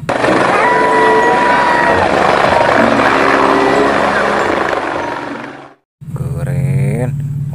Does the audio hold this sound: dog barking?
no